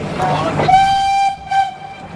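A train horn sounds a long steady blast, pauses briefly, then gives a second shorter toot, following rumbling movement of the train nearby as it leaves Mettupalayam station on the line to Ooty.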